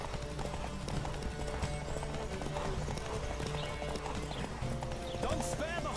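A horse galloping in The Witcher 3, rhythmic hoof clip-clops pounding steadily with a brief whinny, dense game ambience underneath and people talking over it.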